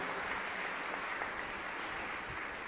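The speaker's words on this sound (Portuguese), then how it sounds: "com uma calorosa salva de palmas" Warm, sustained applause from a church congregation at a parish novena evening, a steady dense wash of many hands clapping at moderate level, with no talking over it.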